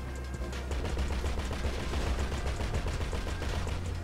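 Rapid, continuous turret fire from a vehicle in GTA V Online, a dense, loud stream of shots running unbroken through the whole stretch with no voices over it.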